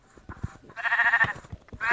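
A sheep in the Minecraft video game bleats once, a wavering nasal call in the middle, with faint soft thumps of gameplay around it.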